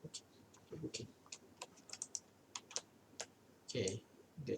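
Irregular bursts of clicky keystrokes on a computer keyboard, quiet and close, typed in short clusters with pauses between them.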